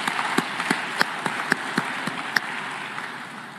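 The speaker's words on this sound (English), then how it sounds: "I think we should give another round of applause to the finalists" An audience at an African food systems forum applauds the finalists, a steady wash of clapping with a few sharper individual claps standing out, tapering off slightly toward the end.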